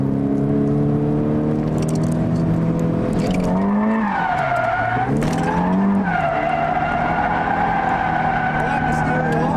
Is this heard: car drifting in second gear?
yes